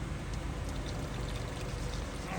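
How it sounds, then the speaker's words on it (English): Liquid soap being poured into a bucket while cleaning up a Honda Element camper, a steady, fairly quiet splashing pour that runs for a couple of seconds with no talk over it. "Okay, more soap, please."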